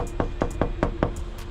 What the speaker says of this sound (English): Knock on this door.